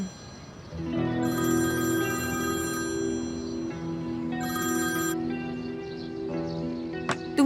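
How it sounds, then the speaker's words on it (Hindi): A telephone rings in repeated electronic bursts, each trill sounding for a couple of seconds with short pauses between, clear and fairly close in a quiet room. "कब से फोन बज रहा है"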